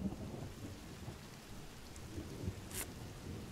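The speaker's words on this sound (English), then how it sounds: "It's raining again." Steady rain and low rumbling thunder in the survival game The Forest, a continuous wash of rainfall with a brief sharper crack near the end, moderately loud and without speech.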